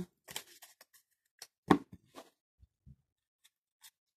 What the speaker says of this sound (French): Je vais repositionner une nouvelle carte